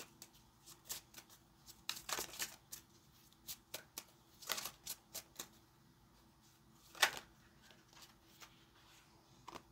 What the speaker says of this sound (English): So let's go ahead and get a couple of cards of advice out here on the table for you